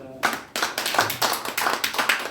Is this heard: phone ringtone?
no